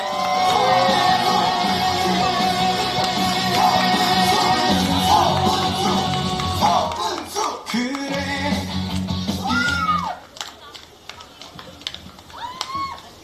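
A crowd at a Busan Station campaign event cheers, shouts and whoops as the party leader arrives, loud and dense at first, then thinning out with scattered yells and voices talking.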